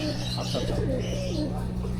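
Pigeons coo in soft, wavering calls over a steady low hum, close at hand, with no clear speech.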